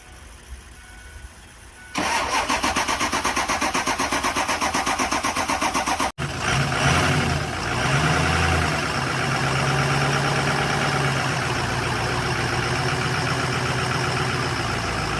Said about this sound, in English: I got it to start with a little bit of starting fluid on this one.